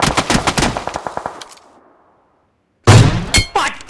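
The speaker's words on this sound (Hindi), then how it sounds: "आराम से चलाएंगे AWM" AWM sniper rifle fire in a mobile battle-royale shooter: a rapid burst of loud, sharp shots rings out and decays into near silence, then a single heavy, booming report strikes with metallic clanks following.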